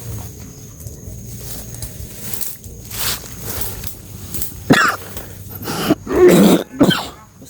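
A person coughs and clears their throat several times in a row, loud and close, over a low background rumble and some faint movement noise.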